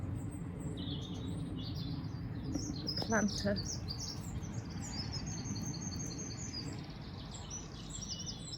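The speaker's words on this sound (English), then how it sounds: "the birds are very vociferous this morning" Birds singing on a morning in a garden, high chirps and tweets scattered throughout over a steady low background hum, with a voice briefly speaking.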